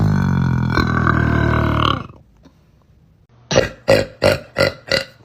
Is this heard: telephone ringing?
no